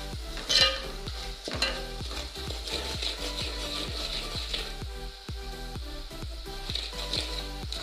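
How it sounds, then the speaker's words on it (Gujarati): A spoon stirs chili powder, salt, turmeric, coriander powder and garam masala into stuffed aubergines frying in a pan, scraping in rhythmic strokes about twice a second over a continuous sizzle. "હવે આપણે હલાવી દઈશું."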